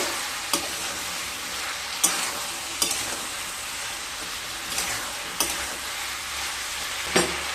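Ridge gourd, potatoes and spices sizzle in a pan for a prawn and ridge gourd curry while a spatula scrapes and knocks through them at irregular intervals, up close over a continuous frying hiss.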